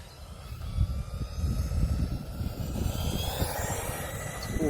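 WLtoys 104001 RC car with a 33T pinion, its electric motor running at full throttle, a steady high-pitched whine over a continuous loud rumble that persists evenly throughout without speech.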